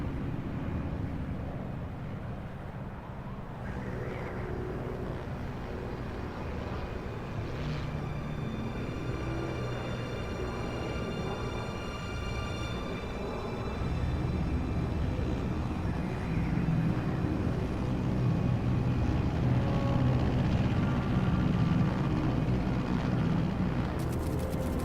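An aircraft in flight in Metal Gear Solid Delta: Snake Eater, at altitude over Pakistan, makes a steady, dense engine drone with a faint whine on top, holding even and continuous throughout and swelling slightly toward the end.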